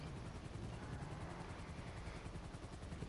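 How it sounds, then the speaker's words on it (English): A luxury helicopter arrives in GTA Online, its rotor chop a steady, dense, low thrumming that fills the background at moderate, unchanging volume without talk. "I request a luxury helicopter"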